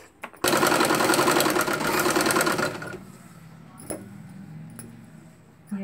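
A sewing machine stitching a nighty gown runs loud and steady at close range for a few seconds, then stops, leaving a few faint handling clicks.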